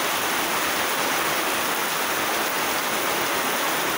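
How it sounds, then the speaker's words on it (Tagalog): A steady typhoon downpour in Masbate, Philippines fills the air, thick continuous hissing of heavy rain striking surfaces nearby, loud and unbroken. "Tapos tumatalsik na yung yung ulan."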